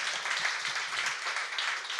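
Church conference audience clapping and applauding together, a dense, steady wash of many hands at moderate loudness with faint voices underneath.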